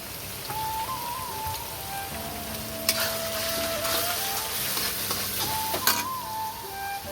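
Masala with chilli powder and turmeric fried and stirred in a pan for chicken chow mein, a continuous close sizzle with occasional scraping stirs and faint tonal whines in the background, no talking.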